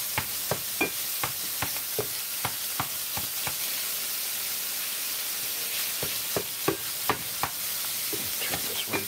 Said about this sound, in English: the sausage is just about cooked already